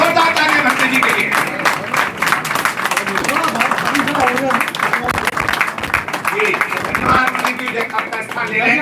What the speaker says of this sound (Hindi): खड़े होकर के भंते जी के सम्मान जोरदार ताली भंते जी के लिए।